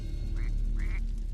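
A thirsty bird cries out twice in short rising calls, a quack-like squawk against a low steady background hum, near and alone without talk.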